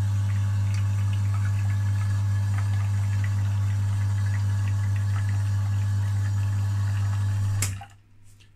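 A VA E1 Prima espresso machine dispensing 50 ml of water, a loud steady pump hum with running water for about eight seconds that then cuts off abruptly into near quiet.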